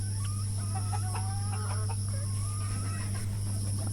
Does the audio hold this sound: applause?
no